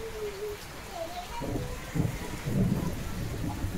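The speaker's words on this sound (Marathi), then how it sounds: "पाऊस आला पाऊस" Rain falls with a steady hiss, and a voice is heard briefly over the downpour.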